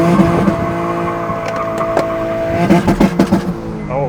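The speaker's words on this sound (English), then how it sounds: "first I'm gonna do like a little essentially burnout" A turbocharged V6 Honda Accord holds a loud, close, droning engine note, then a rough pulsing stretch as the tires break loose in a short burnout.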